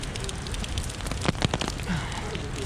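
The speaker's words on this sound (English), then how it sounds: "Today's raining." Cold rain falling on a Tokyo street, a steady close patter and hiss with no break, plus a few brief louder knocks and crackles partway through.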